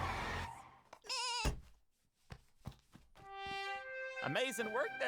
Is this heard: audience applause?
no